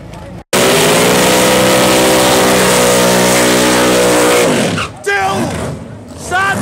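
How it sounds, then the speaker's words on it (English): Drag racing cars, including JC Richardson's 1969 steel Camaro, do smoky side-by-side burnouts, with a loud sustained engine roar and revving that cuts out near the end as a voice talks. "Still, side by side, smoky burnouts."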